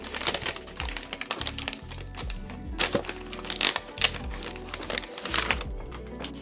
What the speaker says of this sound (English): I'm gonna unwrap this now.